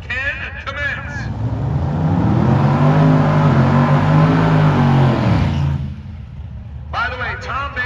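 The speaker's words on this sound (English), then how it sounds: "They are waiting for the signal, and here we go. Burnouts can commence." Drag racing cars doing burnouts at Byron Dragway roar in a loud, sustained engine blast lasting several seconds before easing off, with a commentator talking over it.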